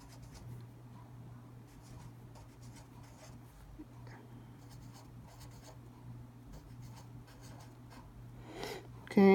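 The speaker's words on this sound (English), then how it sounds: "All right, so I'm going to write them over here." Handwriting on paper while working a third-grade math problem: soft, intermittent scratching and tapping strokes, faint and close, with a louder rustle at the end.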